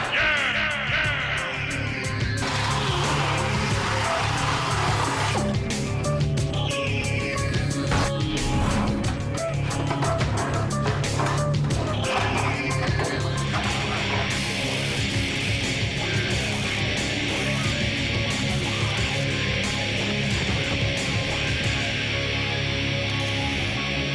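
Loud, continuous engine roar with dense mechanical clatter and a rough idle, a PT Cruiser motor and a Wisconsin wood chipper engine running together close by, steady throughout with no talking.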